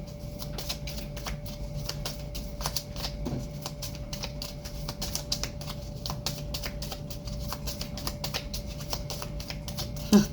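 Oracle cards are shuffled by hand, a soft rapid patter of card edges riffling and tapping in near-continuous bursts, close and quiet, with no talk.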